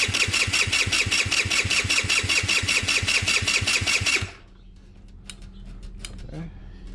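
An Icebear Maddog Gen4 engine, a Ruckus-clone scooter, fires on its first startup and runs loud and fast-pulsing for about four seconds, then cuts out abruptly, leaving faint clicks and rustling.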